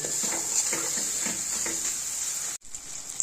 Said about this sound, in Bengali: তো এর মধ্যে অল্প একটু মাছের মাথাটা দিয়ে এবার নাড়াচাড়া করে নেবো আগে